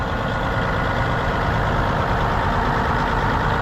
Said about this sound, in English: There's a nice Kenworth with cat power.